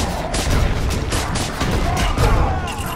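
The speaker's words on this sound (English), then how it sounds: "let's get Hulk and repeatedly press B until he can break a wall" Hulk repeatedly smashing through a wall in the LEGO Marvel video game, a dense run of loud crashing, booming impacts in quick succession for several seconds, with no talk over it.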